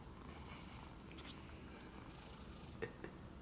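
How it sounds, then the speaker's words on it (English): A cat purrs softly and steadily, close but quiet, with a couple of small rustling bumps near the end and no talking. "now she's purring."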